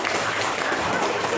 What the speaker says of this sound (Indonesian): Wih, tepuk tangan keren.